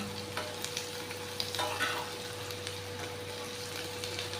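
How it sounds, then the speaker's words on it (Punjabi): Onions fry in a pan over a low gas flame, a steady soft sizzle with light stirring scrapes and occasional crackles, close by and moderately quiet, with no talking. "ਪਿਆਜ਼ ਆਪਾਂ ਨੇ 2-3 ਮਿੰਟ ਵਾਸਤੇ ਗੈਸ ਸਿਮ ਕਰਕੇ ਢੱਕ ਦਿੱਤੀ ਜੀ"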